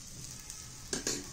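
A spoonful of ghee sizzles on a jackfruit dosa in a hot pan: a steady, close frying hiss that jumps into two brief louder crackling bursts near the end, with no voices.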